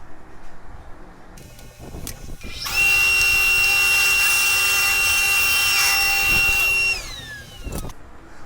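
A power saw cuts an 8 mm wooden runner strip. The motor spins up, then a loud steady whine with a strong tonal hum holds for about four seconds and winds down as the cut finishes. There is quiet shop noise before and after.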